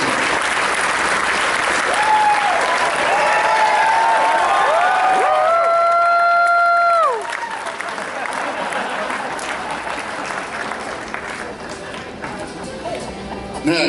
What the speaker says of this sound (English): Everyone, please give a round of applause for Mr. Jeff Best